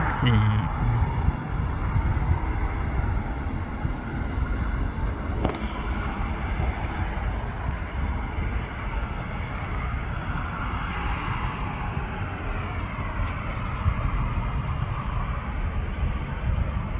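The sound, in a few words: Singapore Airlines airliner flying in to land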